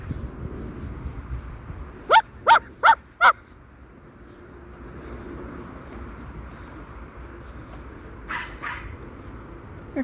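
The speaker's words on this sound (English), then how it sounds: "Here comes more dogs" A dog barks four times in a quick, even burst, followed later by a couple of softer yips, heard outdoors at a botanical garden against a steady ambient background.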